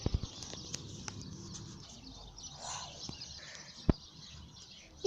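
Birds chirp in a front yard, with faint, steady high twittering beneath soft ambient noise and a few scattered clicks and knocks.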